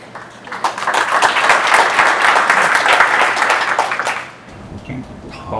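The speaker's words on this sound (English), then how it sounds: "while you're still clapping" An audience at a speech event claps steadily and densely for about four seconds, then the applause fades out and a quieter room tone with a few faint sounds remains.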